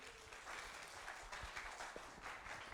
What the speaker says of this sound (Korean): 고승임 강연자님을 뜨거운 박수로 맞이해 주세요.